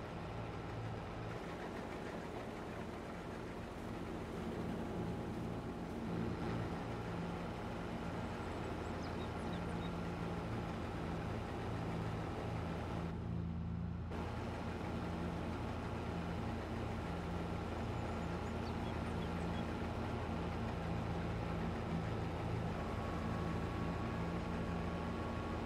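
Tractor engine from a farming video game, running at a steady low drone throughout with no talk over it.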